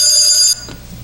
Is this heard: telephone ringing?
yes